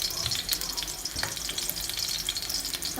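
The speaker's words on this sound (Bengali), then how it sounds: "তেলটা যখন গরম হলো আমি আলুটা ভেজে নিচ্ছি" Potato pieces fry in hot oil with turmeric in a pan, giving a steady close crackling sizzle with a few soft stirring scrapes.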